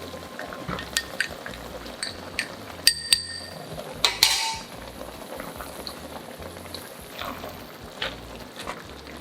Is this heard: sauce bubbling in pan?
yes